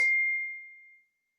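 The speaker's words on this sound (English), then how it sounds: "I don't have notifications off there. I bet you guys can hear that, right?" A single soft electronic ding rings out and fades away over about a second, followed by silence.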